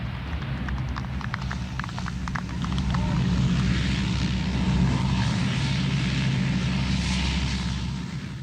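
RAF Hercules transport plane landing on a cratered runway during the 1971 Bangladesh war, a loud, steady roar of propeller engines that swells and holds throughout, with faint crackling noise over it.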